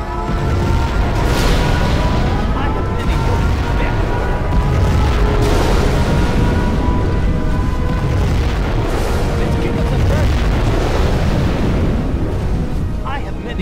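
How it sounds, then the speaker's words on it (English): Massive nuclear missile blast in Command & Conquer Generals Zero Hour, a loud continuous rumbling boom with crackling debris that rolls on for the whole stretch over droning game music. "We have launched our nuclear missile."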